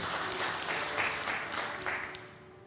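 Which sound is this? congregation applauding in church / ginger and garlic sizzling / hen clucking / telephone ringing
congregation applauding in church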